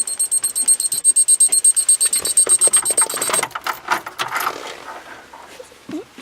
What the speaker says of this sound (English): Oh, that alarm's going to go off, I think.